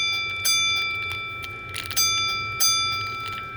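Model railroad crossing bell from a Robert RxR crossing design, ringing close and alone in a steady metallic clanging pattern with bright repeated strikes, switched on for use with a wireless remote.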